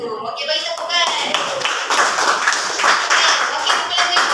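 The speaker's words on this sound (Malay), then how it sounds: "Okey, bagi tepukan" A classroom of pupils claps for a classmate during an Islamic studies lesson, a dense burst of hand claps running steadily for a few seconds under a teacher's voice.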